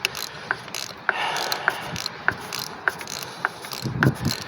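Ratchet wrench tightening a bolt on the engine of a 2009 Hyundai Azera during a thermostat replacement, giving a steady series of sharp metallic clicks, about one every half second, close up over light background noise.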